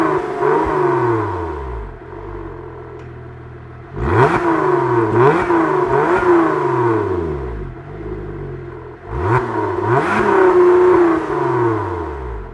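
A Lotus Emira mid-engine V6 manual sports car engine revs hard several times, sharp rising bursts with rapid drops back to a rough, burbling idle, loud and close.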